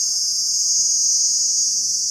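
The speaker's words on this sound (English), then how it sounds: "You can hear the sound of the cicadas. They could be really loud and piercing." Loud, piercing cicadas in a village, a continuous high buzzing drone that holds steady throughout with no break.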